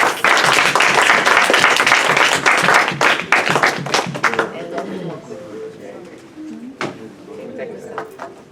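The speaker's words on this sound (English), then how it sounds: "let's give him a round of applause" A group's round of applause during a visit to FAU, loud and brisk for about four seconds, then dying away into scattered claps and chatter as people talk nearby.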